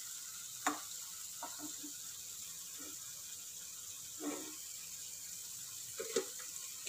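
Jackfruit appam fries in a pan with a faint, continuous sizzle, broken by a few soft clinks and scrapes of a utensil.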